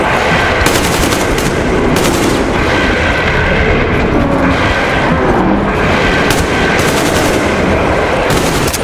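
Sustained automatic gunfire at mutants in Metro Exodus, loud and continuous for nearly nine seconds, with dense rapid bursts and booming impacts layered throughout.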